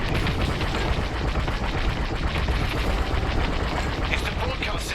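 Dense, continuous starfighter gunfire and explosions roar in Star Wars Squadrons during VR play, a loud unbroken wash of blasts and booms with voices faintly underneath.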